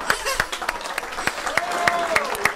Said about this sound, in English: everybody is cheering down here